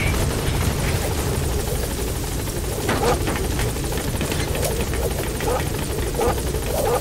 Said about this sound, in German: Steigen wir in den Helikopter ein.